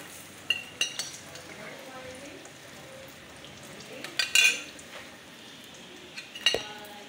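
Eggplant pakoras fry in hot oil, a steady low sizzle broken by a few utensil clinks and scrapes against the pan.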